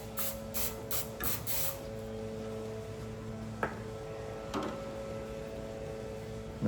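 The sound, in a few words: cooking spray sprayed into bread pan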